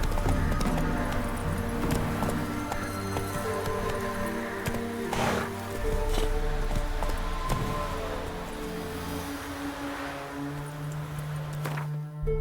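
Horse hooves clip-clop steadily while riding in The Witcher 3, a rhythmic trotting beat under a continuous music and ambience bed, close and moderately loud throughout.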